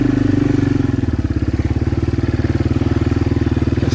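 A motorbike engine runs steadily while riding around a fence-building site, a close, loud, rhythmic low putter that holds throughout.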